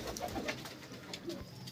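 Pigeons coo softly in a loft, low murmuring calls faint against a steady background hum, with no clear speech.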